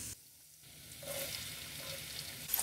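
Onion, one medium-sized, frying in a pan with garlic ginger paste, a steady sizzle that swells after the first second and holds fairly loud to the end, with a couple of light clinks near the close.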